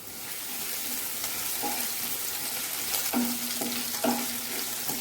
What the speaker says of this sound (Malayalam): ഇഞ്ചിയും വെളുത്തുള്ളിയും പച്ചമുളകും കുറച്ച് നേരം എണ്ണ കിടന്നൊന്ന് മൂത്തിട്ടുണ്ട്